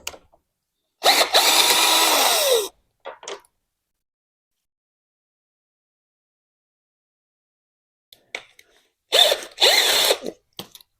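A power drill fitted with a 10 mm socket adapter runs on bolts during an oil change on a Suzuki TL1000 motorcycle, with two loud whirring bursts about a second long separated by a long silence, plus brief clicks.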